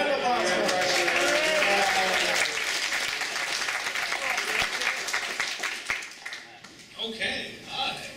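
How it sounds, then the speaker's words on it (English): Audience applause breaks out at a City of Heroes player summit workshop. Loud clapping fills the room, then thins and scatters toward the end as voices talk over it. "Round of applause for us."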